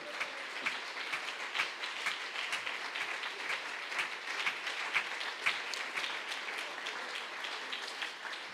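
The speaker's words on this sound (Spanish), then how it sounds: "Dele ese aplauso al Señor." A church congregation applauds steadily, dense clapping filling the whole stretch at a moderate, even level with no voices on top.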